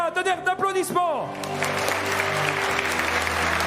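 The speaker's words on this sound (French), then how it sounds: "Tonnerre d'applaudissements" A robotics competition audience at a final breaks into sustained applause after an announcer speaks, a dense wash of many hands clapping that swells and holds steadily, the voice fading as the crowd noise takes over.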